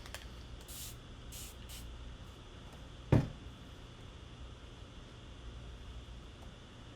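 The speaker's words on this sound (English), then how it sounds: "I'm going to spray my paint too because it's getting a little bit dry." A spray bottle misting acrylic paints on a palette to keep them from drying during a still-life painting class, a few short hissing spritzes near the start over steady room hiss, with a single sharp knock in the middle.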